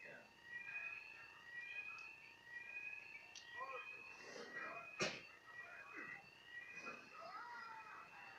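Bank alarms ring through the video game Batman: Arkham Knight, a repeating electronic tone sitting under intermittent talk and a sharp impact midway.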